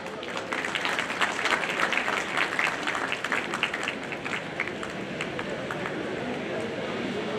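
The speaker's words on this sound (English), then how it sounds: "Please give them a big round of applause." Applause rises from the audience at a college of engineering graduation day in Bangalore, a steady, moderately distant patter of many hands lasting several seconds.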